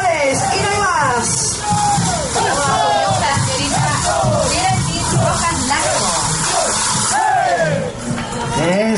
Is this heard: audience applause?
yes